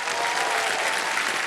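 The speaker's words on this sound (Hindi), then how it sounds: "तालियां बज जाएं इनके लिए।" Loud, dense applause from the studio audience of a televised quiz show, a continuous wash of many hands clapping that holds steady from start to finish, close and full.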